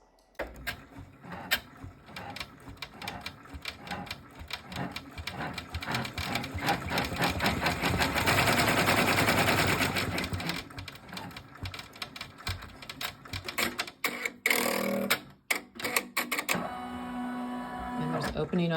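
An embroidery machine stitches the front and back layers of a magnetic bookmark together, a steady rapid mechanical chatter running throughout at close range, with speech over it.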